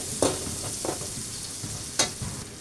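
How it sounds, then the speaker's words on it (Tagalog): Black pepper frying in hot cooking oil for chicken feet adobo, a steady soft sizzle with a few brief stirring scrapes and clinks, close by with no talk. "para yung paminta maluto sa mantika"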